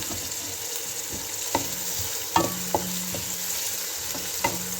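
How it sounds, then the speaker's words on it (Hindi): Chopped onion frying in a pan for a mixed vegetable dish, a steady close sizzle broken by several sharp knocks and scrapes of stirring, with no voices. "सबसे पहले प्याज डालने लगी हूँ।"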